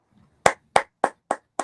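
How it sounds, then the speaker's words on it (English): One person claps hands five times at an even pace, each clap sharp, close and loud, with short silences between. "Hold on, let me clap for you."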